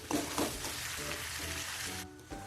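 Soybean chunks being mixed into onion paste in a hot pan, a loud close sizzle with a couple of stirring scrapes early on, cutting off abruptly near the end.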